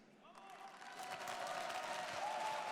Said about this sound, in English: On a décompté les applaudissements de votre temps de parole.